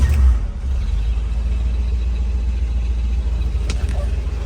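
A 1963 Ford Thunderbird V8 with a low-mileage motor idles with a steady, loud low rumble throughout, close up, with a brief rise in level at the very start as it catches and no talking.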